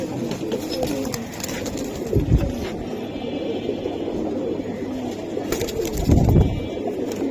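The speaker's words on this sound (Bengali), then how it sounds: "পুরানো লাইনের মাদি কবুতর।" Domestic pigeons, old-line hens of a Bengali pigeon breed, coo repeatedly at close range in a loft, with soft overlapping calls and two louder bursts of cooing or wing flutter.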